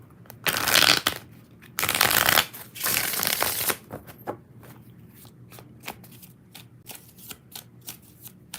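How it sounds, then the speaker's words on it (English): Tarot cards being shuffled close up in several loud riffling bursts, followed by quieter scattered flicks and taps of the deck, with no talking. "One more shuffle."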